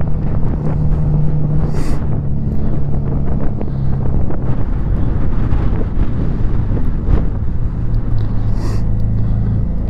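Heavy wind buffets a rider on a Suzuki V-Strom motorcycle climbing Pikes Peak under a wind advisory, a constant loud roaring rush over the low rumble of the engine.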